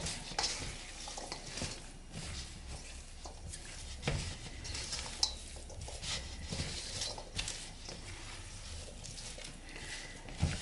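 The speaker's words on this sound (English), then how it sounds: "Mix it really good." Apple cake batter being mixed in a bowl, with a steady soft wet stirring and squishing texture, occasional light clicks of the utensil against the bowl, fairly quiet and continuous throughout.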